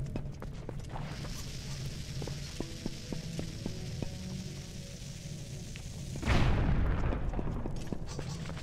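A bomb exploding in The Legend of Zelda: Twilight Princess, a sudden deep, loud boom after a stretch of quieter clicks and low background sound, with the rumble trailing off slowly.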